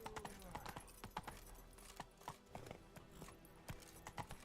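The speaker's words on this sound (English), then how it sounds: "Whoa there, Roach." Horse hooves clop in The Witcher 3 video game, a rhythmic series of sharp hoofbeats at a trotting pace, fairly close and repeated steadily across the clip with a faint low hum underneath.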